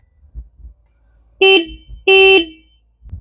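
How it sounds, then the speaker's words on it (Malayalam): Horn of a Hero Xtreme 125R motorcycle, two loud, bright electric beeps, the first short and the second a little longer, sounded close up with quiet moments between. "ഞാൻ ഇതിൻ്റെ ഹോൺ ഒന്ന് കേൾപ്പിച്ചു തരട്ടെ"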